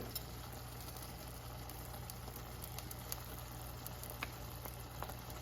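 Bacon onion jam with brown sugar and honey simmers down in a pan, a faint steady bubbling and sizzling hiss with occasional small pops, no voices.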